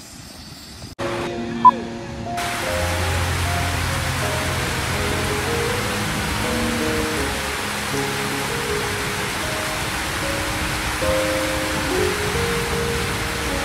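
Broad, steady rushing water of a waterfall at Kyoti, heard at a campsite, with a constant hiss filling the scene from start to end; a sharp knock sounds near the beginning and soft tonal hums sit underneath.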